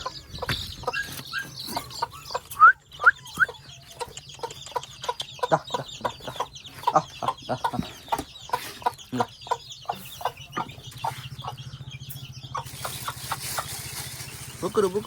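Chickens cluck in a steady run of short, repeated calls, with a low continuous hum underneath and a burst of hiss near the end.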